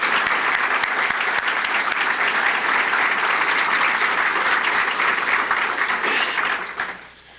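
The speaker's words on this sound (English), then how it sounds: "I'd ask all of you if you'd join with me in giving a round of applause to our families and friends." Sustained round of applause from an audience at a formal ceremony with senior executives, broad and steady clapping that fills the room before fading out at the end.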